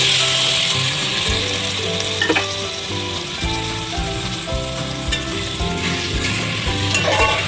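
Chicken sautéing in a pot for chicken macaroni soup, a loud continuous sizzle and fry with stirring clatter throughout, close up and with no talk.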